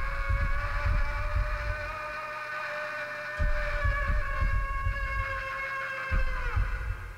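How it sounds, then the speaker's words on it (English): Heartbeat sound in the video game Max Payne: steady low thumping pulses repeat in a regular rhythm, fairly loud and alone, over a sustained humming game ambience. "But the heartbeat's getting louder."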